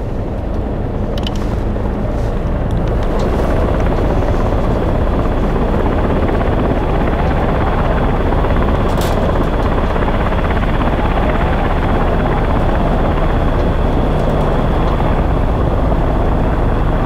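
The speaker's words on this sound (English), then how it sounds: "So we should be getting a pretty decent water drop right now" A loud, constant firefighting helicopter rotor roar with heavy rushing noise during a water drop over a large California wildfire, continuing steadily throughout without any voices.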